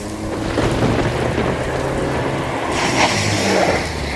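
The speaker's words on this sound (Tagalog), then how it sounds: "Bumuhos na ang ulan." Heavy rain pours down steadily outdoors, a dense continuous hiss that stays loud throughout with a slight surge near the end and no voices.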